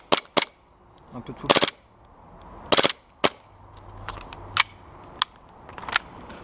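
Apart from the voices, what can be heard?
gas airsoft pistol dry firing without BBs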